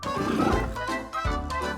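A gorilla gives a deep, rough roar that swells and fades twice, close and loud over a soft rhythmic music backing.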